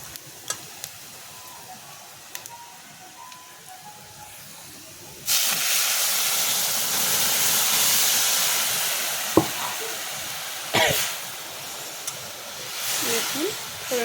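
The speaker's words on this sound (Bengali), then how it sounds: "আমি এখন ফোড়নটা দিয়ে দেব।" Tempering spices dropped into hot oil for jackfruit seed dal: after a few quiet seconds of light clicks, a loud hissing sizzle bursts in and continues, with occasional stirring knocks against the pan.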